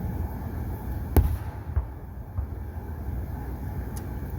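Fourth of July fireworks heard from a distance, a few scattered sharp bangs and pops over a low continuous rumble, fairly faint throughout.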